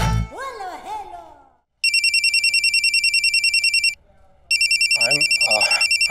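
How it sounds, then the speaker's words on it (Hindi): An electronic telephone ring in two long, pulsing bursts with a short pause between them, loud and close, following a bit of talking at the start, with a voice speaking over the end of the second ring. "बीच में फोन बजा"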